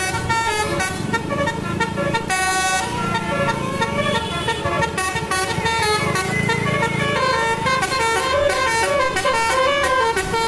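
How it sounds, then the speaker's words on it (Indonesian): A basuri musical horn on a Jetbus 5 bus plays a loud, continuous tooting melody of bright, shifting notes close by, over the low rumble of the vehicle. "Dan tidak lupa coy, basurinya coba nyalakan."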